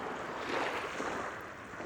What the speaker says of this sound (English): Listen to the sound of the water just running back over the pebbles.